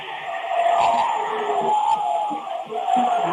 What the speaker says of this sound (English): MMCRU crowd is going absolutely bananas behind me.